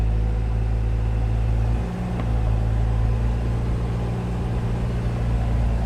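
A car engine runs steadily under load with the parking brake pulled on, giving a continuous low rumble that holds constant throughout, with a brief dip partway, and no talking.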